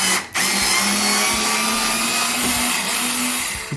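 SKIL 4V cordless power screwdriver driving a large screw into a wooden door frame, a steady close motor whine with a brief dip at the start, held for several seconds with no talking.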